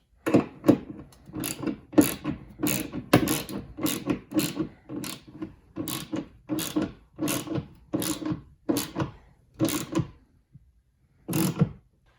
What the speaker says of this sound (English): Grab our wrench.